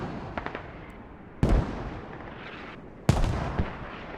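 Mortar fire in a strategy video game battle, two heavy booming blasts about one and a half seconds apart over a constant rumbling battle din with faint smaller pops.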